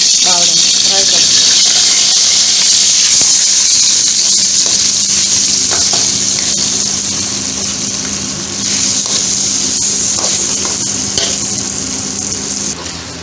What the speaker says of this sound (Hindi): ऑयल डालने के बाद हम इसमें अपना मैरिनेट किया हुआ जो है वो चिकन उसमें डाल देंगे, फ्राई करेंगे।